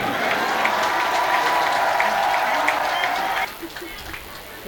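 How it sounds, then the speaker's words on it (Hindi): Steady applause from an audience at a Hindi comedy poetry gathering fills the first few seconds, then cuts off abruptly, leaving low room noise and faint voices. "तो एक बार तालियां आप अपनी बजाएं।"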